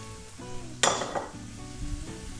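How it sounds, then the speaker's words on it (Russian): Onion fries in oil in a pan on a gas stove, a steady close sizzle with a sharp burst as it is stirred and faint utensil clinks. "Я жарю лук на сковороде."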